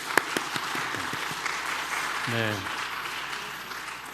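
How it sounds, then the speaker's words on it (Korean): Audience clapping during a Sunday church service, a short burst of applause from a congregation after a brief spoken word, with a sung or spoken tone sliding in midway and the clapping fading out. "우리 박수 한번"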